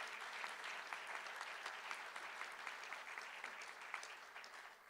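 An audience at a North Carolina superintendent awards ceremony gives a sustained round of dense applause, steady and moderately distant, with no talk over it.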